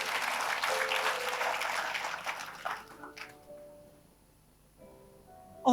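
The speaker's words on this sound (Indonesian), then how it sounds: "Yang setuju berikan tepuk tangan." A church congregation bursts into loud, dense applause that holds for nearly three seconds and then fades into scattered claps and quiet room tone, with a short thump at the very end.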